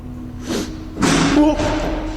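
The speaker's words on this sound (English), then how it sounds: "A door slams shut somewhere near the frightened ghost hunter." A door slams shut in an abandoned factory with a couple of dull thuds, close and fairly loud, with a gasp or voices alongside.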